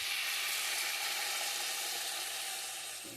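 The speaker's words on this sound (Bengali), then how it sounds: "এরপর আমরা আগে থেকে সেদ্ধ করে রাখা মুগের ডালটা এর মধ্যে অ্যাড করে নিচ্ছি।" Boiled moong dal added to a hot pan of vegetables sets off a loud, continuous sizzle and hiss that stays steady and eases slightly toward the end.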